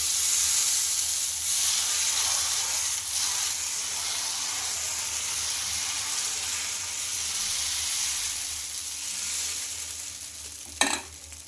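Ridge gourd and wheat rava dosa batter sizzles on a hot pan as a soft, steady hiss, with a sharp clink near the end.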